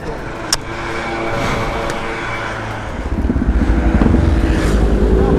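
A motorcycle engine idles and then grows louder and rougher, rumbling close by with a few sharp clanks early on.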